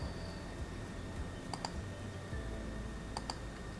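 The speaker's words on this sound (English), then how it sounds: "right click on that kriging result, or also double click on that" A computer mouse clicking while working in ArcGIS, giving two quick pairs of faint, sharp clicks like double clicks against a quiet room background.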